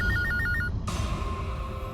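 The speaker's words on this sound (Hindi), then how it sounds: "चलो उठाओ फोन, उठाओ तुम्हारा अभी।" A telephone rings in short repeated electronic bursts for under a second, then cuts off abruptly into a steady room hum, with no talking.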